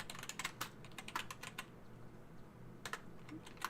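Close-up typing on a computer keyboard in quick bursts of clicky keystrokes, a pause of about a second in the middle, then a few more taps, with no voices.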